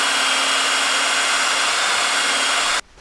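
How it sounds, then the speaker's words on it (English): A stepping drill bores through to enlarge a hole for a tight, water-sealed fitting, a steady high-pitched whine holding for almost three seconds before it cuts off abruptly. "Stepping drill seems to work just the treat."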